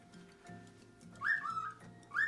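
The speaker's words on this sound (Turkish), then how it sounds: "Evet, sultan papağanımız böyle." A cockatiel kept indoors with budgerigars gives a few rising whistled phrases, fairly close and clear, in two short bursts over a low background hum.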